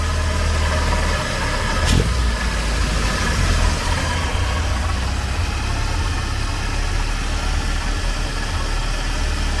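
A 1980 Triumph TR7 engine idles steadily at around 1,000 rpm with a low, even rumble and constant hiss, close by, with a brief click near the start and no voices.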